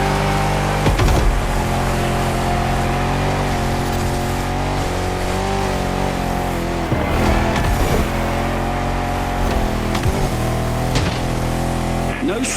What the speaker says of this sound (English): I see you've embarked on a 4x4 race through the jungle